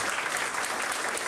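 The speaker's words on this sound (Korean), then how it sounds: "여러분 따뜻한 박수로 환영해 주시면 고맙겠습니다." Dense, steady applause from a workshop audience welcoming guests fills the short stretch evenly and loudly, with no voice over it.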